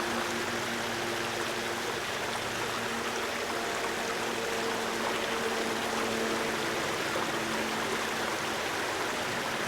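Water runs steadily through a wooden channel toward a mill, a continuous, even rushing flow that stays close and unbroken throughout.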